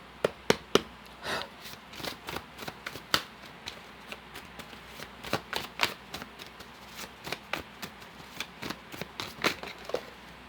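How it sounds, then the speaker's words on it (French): Tarot cards shuffled and dealt out in a steady run of crisp riffling snaps and soft slaps, close and fairly loud, with no talking over them. "Je vais quand même ajouter quelques cartes."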